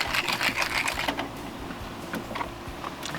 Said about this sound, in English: we're gonna give them a nice light coat of freshly ground pepper